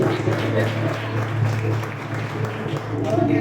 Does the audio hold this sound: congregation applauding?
yes